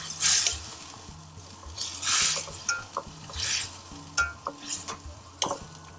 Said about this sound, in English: once we've got that frying and sizzling